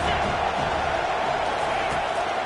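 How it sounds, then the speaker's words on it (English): A loud, dense stadium crowd roars steadily during a college football game, the noise swelling for a third-down defensive stand, with a broadcast voice faintly in the mix. "Decibels rising as the crowd gets behind this defense on 3rd down."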